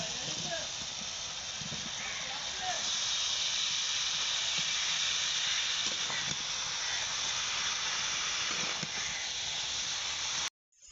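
Cauliflower and potatoes fry in a pan with spices, giving a continuous close hiss and sizzle with small crackles throughout, ending abruptly.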